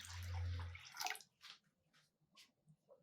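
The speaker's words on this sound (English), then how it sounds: "Put a small pot on the stove, add about 700 ml of water" Water runs into a small pot on the stove, about 700 ml poured in a short burst at the start, followed by a few scattered drips and splashes close to the microphone.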